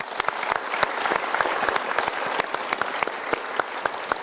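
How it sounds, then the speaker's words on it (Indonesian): Studio audience at an Indonesian motivational talk show applauds steadily, a dense wash of clapping from many hands that stays even and fairly close throughout. "Kita berikan tepuk tangan dulu"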